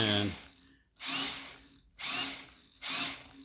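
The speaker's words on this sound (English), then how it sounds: "my battery's dying on my drill" Cordless drill with a dying battery turning an engine's oil pump to pre-lube it, three bursts of whirring motor about a second apart, each rising and fading as it strains, fairly close and loud.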